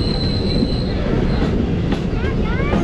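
A train arriving at Verka Junction station near Amritsar, with a loud continuous rumble of wheels on the rails and high squeals from the wheels as it moves through the station.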